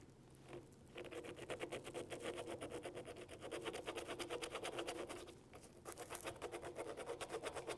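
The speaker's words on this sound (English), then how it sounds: "you're going to need to scrape at it with a screwdriver or something similar" Screwdriver scraping carbon buildup off hardened 17-4 stainless steel baffles from a Ruger Silent-SR suppressor, a close, rapid rhythmic metallic rasping in steady back-and-forth strokes with brief pauses, fairly quiet and without talk.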